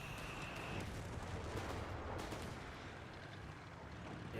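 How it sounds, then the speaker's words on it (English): Grenade blast and gunfire from a Company of Heroes 3 match play as a dense, continuous wash of explosive rumble and battle noise, steady and loud throughout with no distinct isolated shots standing out. "Nade's on the way for Tony."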